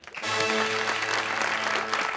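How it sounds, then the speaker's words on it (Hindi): Studio audience applause on a Pakistani TV talk show, a steady wash of clapping under sustained music tones, lasting about two seconds. "तालियां"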